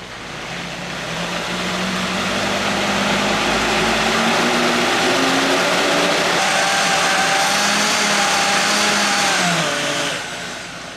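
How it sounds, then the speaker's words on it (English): A kitchen blender runs on high speed mixing pumpkin pie filling, a loud steady whirring motor that shifts pitch as the load thins out, then cuts off near the end. "make sure you turn it up slowly and then mix it on high speed for about 1 to 2 minutes to make sure it's completely liquefied"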